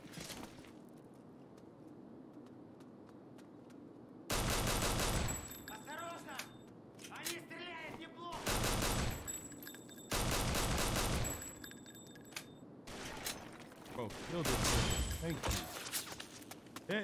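SMG gunfire in the video game 50 Cent: Blood on the Sand, coming in several loud sustained bursts between quieter stretches, with voices talking over parts of the action.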